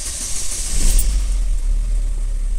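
A 2009 Chevrolet Astra engine starts, a short cranking surge that settles into a steady low idle rumble heard up close, with no talking.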